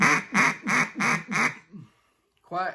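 A duck call is blown in a quick cadence: five evenly spaced, loud nasal quacks in rapid rhythm, trailing off into a softer sixth, then a pause before another quack begins.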